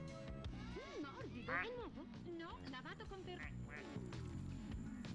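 Cartoonish duck quacks repeat from a video game during a livestream, heard under a person talking continuously over game music.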